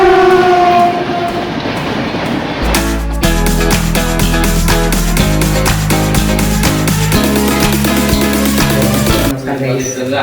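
A train arrives at Shirdi station, loud and close, with a horn blast at the start followed by continuous heavy rumbling and rhythmic wheel clatter.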